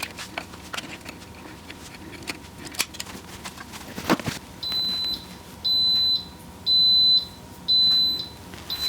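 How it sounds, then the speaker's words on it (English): An electric pressure cooker sounds a series of loud, high electronic beeps in regular bursts, roughly once a second, after some quieter handling noises. "So that will stop beeping in just a second."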